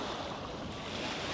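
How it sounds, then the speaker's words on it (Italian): Sea waves washing onto Plage de Perú beach in Corsica, a steady, fairly loud broadband rush of surf with some wind, heard alone with no voices. "E questo è il mare."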